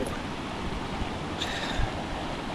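Bissa Waterfall 3 in Karore Valley, Kotli Sattian, gives a steady, dense rush of falling water that continues unbroken throughout, fairly soft and without speech.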